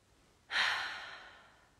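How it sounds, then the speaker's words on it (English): A single deep breath, taken as a group during a guided tapping session for anxiety, starts sharply after a short silence and trails off as a long, airy exhale, close and clear with no talking. "Let's take a collective breath together."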